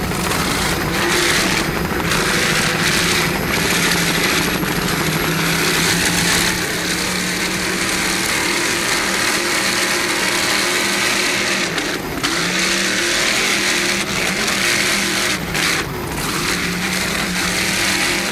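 A racing powerboat engine at a powerboat shootout in Corpus Christi, Texas, roars loud and close with constant broadband noise, its pitch surging and dropping as the throttle is worked on and off throughout.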